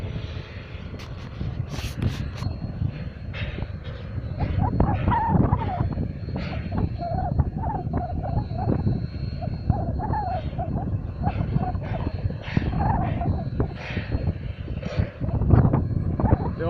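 Union Pacific 844 steam locomotive idles with its air brakes charged, a steady low rumble and hiss filling the scene, with intermittent voices and occasional sharper clanks and bursts over the constant drone.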